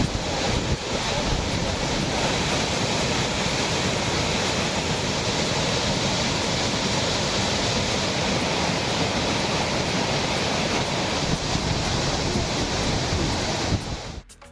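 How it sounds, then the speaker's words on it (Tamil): Megamalai falls near Kombaithodu in a Theni district forest, in flood, roars as a loud, steady, unbroken rush of heavy water for the whole stretch, a dense broadband wash that cuts off abruptly at the very end. "மேகமலை அருவியில் தொடர்ந்து வெள்ளப்பெருக்கு"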